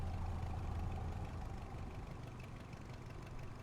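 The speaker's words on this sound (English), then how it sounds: "They're just smoky engines, all right?" Vintage Aero Ae-45 twin-engine light aircraft with smoky piston engines idling on the ground, a steady loud low rumble with a throbbing pulse that holds for the whole stretch and eases slightly toward the end.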